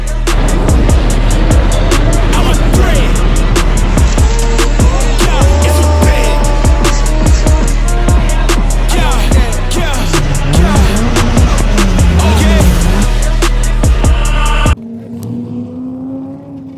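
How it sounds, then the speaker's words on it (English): An SR20-powered R32 Skyline drift car is driven hard on track at a Friday night drift event. Its engine screams loud and close with rising and falling revs throughout, then cuts off abruptly to a quieter tail. "let's cut to some Timmy Rogers action out on the track, giving it everything she's got at our Friday night drift event"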